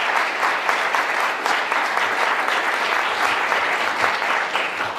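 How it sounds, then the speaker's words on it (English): A room of attendees at a policy panel discussion gives the panelists a big round of applause, sustained, full clapping that stays loud and even for about five seconds. "Would you give our panelists a big round of applause?"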